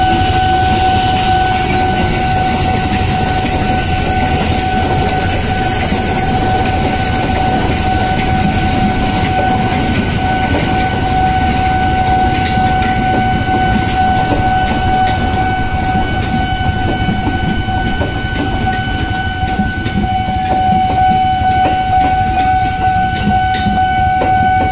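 A train reversing fast rumbles continuously nearby, with a steady high metallic whine and the heavy grinding roar of rolling wagons throughout.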